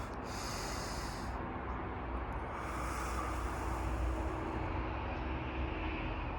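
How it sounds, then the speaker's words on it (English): A long, steady exhale during a guided breathwork exercise, a close, even rush of air held for several seconds with a slight swell midway, no talking. "on this one, let out your breath."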